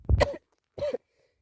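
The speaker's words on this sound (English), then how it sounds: "I'm burping and coughing at the same time" Two short, rough throat bursts, a cough and a belch-like grunt, separated by a brief silence, close and fairly loud.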